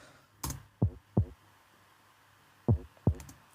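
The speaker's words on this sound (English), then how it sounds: "And here I also got some toms to make it a little bit more groovy." Deep pitched electronic tom hits in a progressive house track sound in short pairs, each thump decaying quickly, with a sharper hit leading the pattern and silence between groups.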